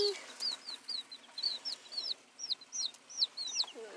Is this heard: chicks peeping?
yes